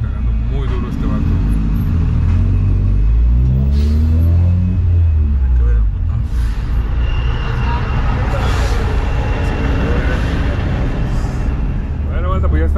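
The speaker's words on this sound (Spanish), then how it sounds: "ya estamos disfrutando del bonito y hermoso tráfico de la Ciudad de México" Loud, steady low rumble of a Honda Civic Si driving through Mexico City traffic, with other vehicles passing close by and a voice talking over the engine noise throughout.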